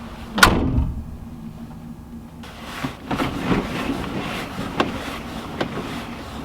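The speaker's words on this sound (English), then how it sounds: "Go open the doors up." A loud door thud opens the clip, followed by softer clunks and rattles of a Volkswagen Vanagon's doors being handled nearby.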